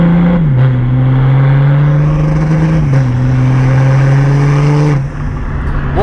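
BMW petrol V6 engine and exhaust revving in a car on a test drive, a steady droning note that climbs and dips twice as the revs shift, close and loud throughout.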